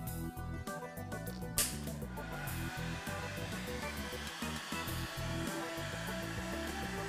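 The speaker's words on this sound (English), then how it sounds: "heat the adhesive compound from inside with an industrial hot air blower" Industrial hot air blower heating adhesive compound during Zafira B front wing removal, a continuous loud whooshing roar with a brief flare of hiss early on, close and steady throughout, no speech.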